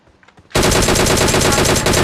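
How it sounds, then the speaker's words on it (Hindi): Automatic M4 rifle fire in PUBG on the Livik map, a loud continuous burst of rapid shots that erupts after a brief quiet start and keeps hammering steadily to the end. "और अब उधर से M4 चल रही है"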